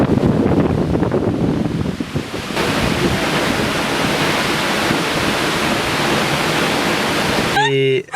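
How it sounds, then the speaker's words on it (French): An Icelandic waterfall that can be walked behind roars at night, its heavy spray and buffeting wind creating a loud, constant rushing noise close to the microphone that cuts off abruptly near the end. "c'est une cascade où on peut passer derrière, sauf que ben... Les projections d'eau. Beaucoup d'eau."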